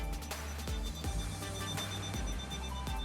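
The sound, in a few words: VHF radio alarm going off at catamaran helm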